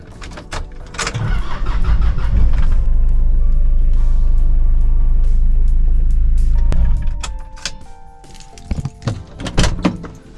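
A car engine turns over and runs with a loud rumble for several seconds, then cuts off, followed by clunks and rattling handling noises.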